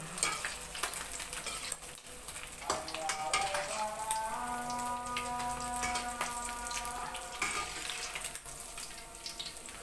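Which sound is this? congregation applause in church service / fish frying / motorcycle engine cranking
fish frying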